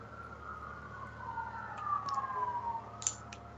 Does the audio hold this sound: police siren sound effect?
yes